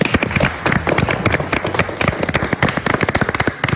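A crowd applauding a singing contestant at a song competition, with dense, loud clapping that stays strong and fairly steady throughout.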